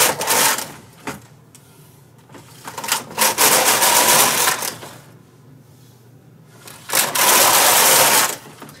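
A White Magic knitting machine carriage is pushed across the needle bed to knit rows of tuck stitch. It makes loud, rushing mechanical passes in about three separate bursts, with quiet pauses between them.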